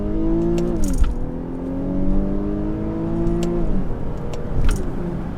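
Infiniti Q50S with the 364 hp V6 revs hard under full acceleration in sport mode, the engine note climbing steeply through the gears with brief dips at each upshift, loud and close inside the cabin.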